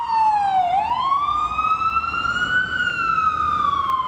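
A loud ambulance siren sounds near Penn Station in New York City. Its wailing tone drops sharply, then slowly rises and holds high, with low traffic rumble beneath it.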